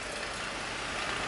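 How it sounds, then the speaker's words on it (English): Snow plow trucks rumble steadily in the distance during a New Jersey snowstorm, a continuous broadband wash of engine and wind noise with no distinct pass-by. "you can hear the plow trucks going in the background"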